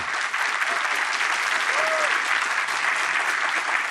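Studio audience applause at a Brazilian television talk show, a dense, steady wash of clapping that stays loud and even throughout, with no voices over it.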